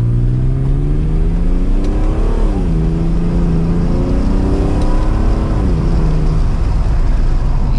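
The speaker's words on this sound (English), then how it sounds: "Really listen to that exhaust again." A 2022 Chevrolet Corvette C8 revs up and accelerates with a deep, rising exhaust note, easing and climbing again in steady pulls, loud and close throughout.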